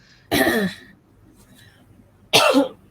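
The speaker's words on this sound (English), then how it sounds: "this cough is not going away" Two separate rough coughs close to the microphone, about two seconds apart, with quiet in between.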